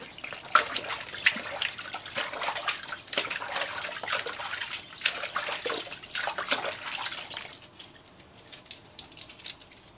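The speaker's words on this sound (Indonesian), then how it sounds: "Cuci bersih dulu daun pandan." Pandan leaves being washed under running tap water, a steady close splashing and pattering stream broken by rustles and handling, which thins to scattered drips near the end.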